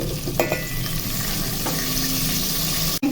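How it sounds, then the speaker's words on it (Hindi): Half a kilo of cut potatoes fry with turmeric and chillies in a pan for aloo gobhi, sending up a loud, steady sizzle with occasional stirring scrapes and a sharp knock near the end, no voices. "आलू को फ्राई करते हैं, गोल्डन से हो जाएं और कलर चेंज हो जाए आलूओं का।"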